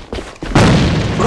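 A grenade blast in the AVA online shooter, a short build-up of muffled thumps followed by a loud, broadband boom that stays dense and ringing to the end of the brief clip.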